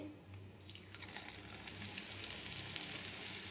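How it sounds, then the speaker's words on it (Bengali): Sitabhog sweets frying in medium-hot oil in an iron wok, a steady soft sizzle with faint crackle running throughout, close and fairly quiet, no talking. "এভাবে দিয়ে এভাবে আমি ভেজে নিচ্ছি"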